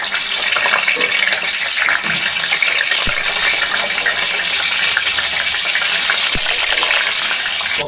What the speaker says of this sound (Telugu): వేయించుకుందామండి.